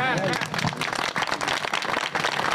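Energetic clapping from a crowd at a church convention mixed with loud voices and cheering, a busy, continuous roar of hands and shouts.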